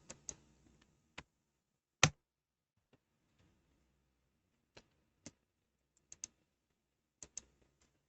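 Sharp isolated keyboard key presses while entering shortcuts for PowerPoint shapes, a tight cluster of clicks followed by scattered single taps with quiet gaps between, close and clear with no talk.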